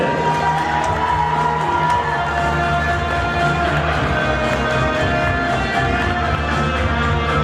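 Audience at the Tatar Kyzy 2017 pageant final applauds steadily, a dense continuous wash of clapping and crowd noise with some cheering, loud and sustained throughout.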